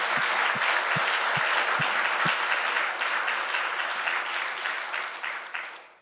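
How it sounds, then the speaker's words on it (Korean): A church congregation breaks into loud, sustained applause that fills the room as a dense wash of clapping, with a few deeper thumps early on, before fading away at the end. "하나님께 큰 박수로 영광 돌리고 찬양대원들 격려도 해 주시길 바랍니다"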